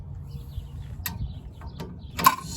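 Socket wrench ratcheting on a subframe bolt of a Toyota AE86, a few quiet separate clicking bursts close by in a workshop, with no talk.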